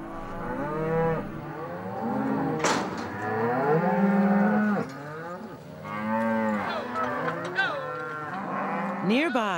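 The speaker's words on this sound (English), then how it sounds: "plans to drive his cows into Frontier Valley" Cows mooing repeatedly on a Montana cattle ranch, long bellowing calls one after another, loud and near, with several animals overlapping and no talk.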